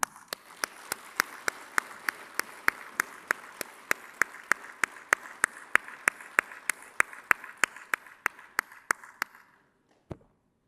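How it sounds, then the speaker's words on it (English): An audience at the inaugural session of a construction conference claps together in a slow, steady rhythm, sharp evenly spaced claps carrying for about nine seconds before stopping, with one stray clap after a pause. "May I request all of you all to put in more energy while we clap?"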